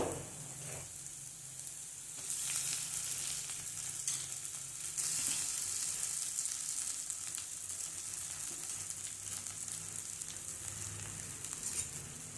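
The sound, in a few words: poha (flattened rice) stir-frying in a pan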